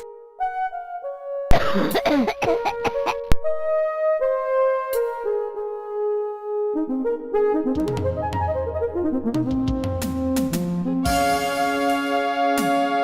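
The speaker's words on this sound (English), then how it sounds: "Just wait until the next cough." A cartoonish cough sound from the game Companions of Xanth, set against a busy musical score with plinking tones and swelling notes throughout.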